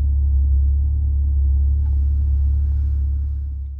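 A 2024 Maserati Levante GT gives off a deep, steady engine rumble heard from close by, a continuous low drone that fades slightly near the end with no talking over it.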